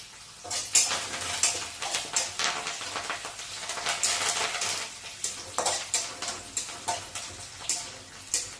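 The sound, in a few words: dried red chillies and curry leaves frying in pan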